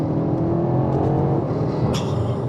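A BMW X5M engine pulls hard under fast manual gear changes, a loud continuous roar with brief breaks at each shift, heard close with no talking.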